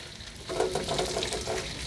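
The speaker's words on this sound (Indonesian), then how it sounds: "Kita goreng aja." Food fries in hot oil over a low flame, giving a soft, faint sizzle and bubbling that runs steadily for a moment.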